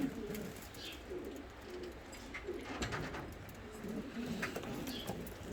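Ardioza posta pigeons coo softly inside a coop, low repeated calls rising and falling over steady background rustle and faint chirps, moderately distant and without talk.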